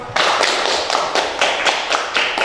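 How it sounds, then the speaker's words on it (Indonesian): Schoolchildren clap together in a classroom, a series of loud, roughly rhythmic bursts of hand claps close by, each bunch of claps rising and falling in quick succession. "Tepuk tangan dulu untuk semua."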